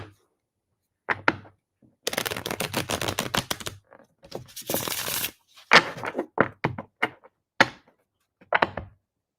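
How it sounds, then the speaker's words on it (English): Tarot cards are shuffled up close in rapid bursts, crisp riffling runs alternating with sharp slaps and taps as the deck is cut and squared. "My cards want to be shuffled."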